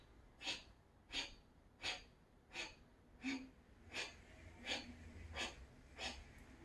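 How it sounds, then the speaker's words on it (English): Forceful rhythmic belly-pumping breaths from a yoga breathing exercise. Nine sharp, evenly spaced exhales come about every three quarters of a second, fairly faint and close, with no talking. "we'll pump our belly 10 times. Remember, exhale is forced."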